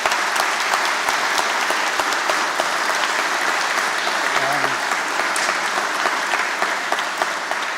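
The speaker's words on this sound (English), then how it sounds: "So I'd like to have a round of applause for everyone" A crowd of graduates and guests at a 2022 University of Buckingham graduation ceremony claps steadily and loudly through the whole stretch, with scattered sharper individual claps over the hall's dense applause.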